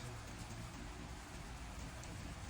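Steady rain falls outside, a continuous dense hiss of drops on surfaces with no breaks, fairly soft and even throughout.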